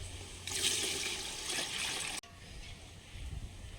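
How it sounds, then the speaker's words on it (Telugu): Water is poured into mutton curry cooking on a wood-fired stove, a loud splashing rush lasting under two seconds, followed by softer bubbling and clatter. "కొంచెం వాటర్ పోస్తున్నా"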